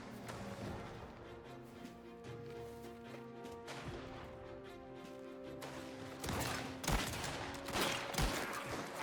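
Gunfire in the video game Mafia: The Old Country, a few sharp shots and bursts cutting through a steady game soundtrack of music and ambience, louder toward the end.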